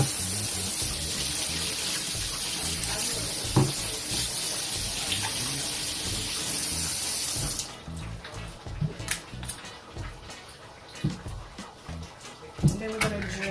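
Tap water runs in a steady, close stream over the top of a can of Goya butter beans for several seconds, then cuts off, leaving quieter clinks and handling sounds.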